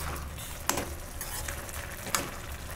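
Gajar halwa, grated carrot cooking in milk over a high gas flame, gives a steady bubbling sizzle, broken by a couple of sharp scrapes from stirring in the pan.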